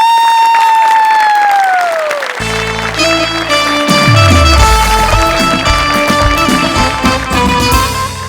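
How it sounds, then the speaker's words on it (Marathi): A descending musical tone gives way to a loud, busy stretch of clapping and crowd noise mixed with music. "ओव्हरऑल या कार्यक्रमासाठीच एकदा टाळ्या वाजवा"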